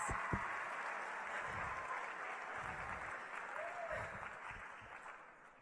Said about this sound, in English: give yourselves a round of applause for getting here